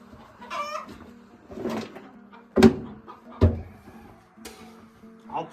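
Laying hens clucking in a farmyard coop, several short separate bursts of clucks and squawks close by, with quiet gaps between them.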